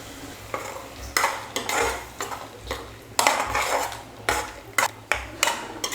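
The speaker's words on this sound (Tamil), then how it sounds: "எல்லாம் சேர்த்ததுக்கப்புறம் ஒரு 2 நிமிஷம் நல்லா வதக்கிக்கலாம்" A spoon scrapes and knocks around a pan as onion, blended tomato and masala are sautéed for a curd chicken gravy, repeated close metallic stirring strokes over a faint frying sizzle.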